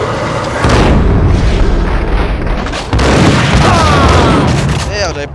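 Grenade blast in the Max Payne video game: loud booming explosions with heavy low rumble fill the stretch, breaking off abruptly midway before a second surge, with game sound effects layered over the top.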